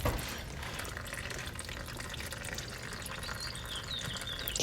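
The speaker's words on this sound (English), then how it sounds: "Oil's coming out." Motor oil draining from a 2007 Toyota Sequoia, a faint steady pouring and splashing of liquid into a pan, continuous and close with no talk.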